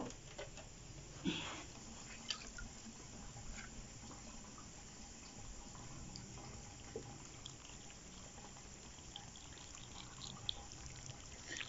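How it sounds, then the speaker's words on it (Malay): Clean water is poured over a potted bougainvillea, a faint, steady trickle and splash soaking the soil with a few soft knocks, quiet and close. "Siram dengan menggunakan air yang bersih."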